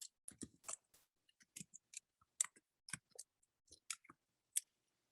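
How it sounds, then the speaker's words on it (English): Quiet, irregular clicks of keys being typed on a computer keyboard, close by, in short bursts with brief pauses, and no talking. "Let me type it again."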